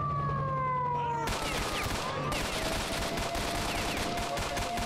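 Gunfire in the S.T.A.L.K.E.R. Shadow of Chernobyl game: dense, continuous bursts of shots from several weapons with no let-up, loud and close, over a steady tonal drone and a siren-like whine.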